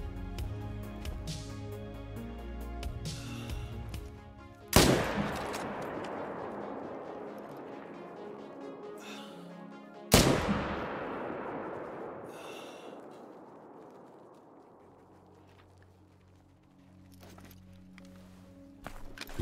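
Two sharp, loud gunshots in a hunting video game, each a hard broadband crack followed by a long rolling echo that fades slowly, spaced about five seconds apart over a faint ambient game background, with no talk.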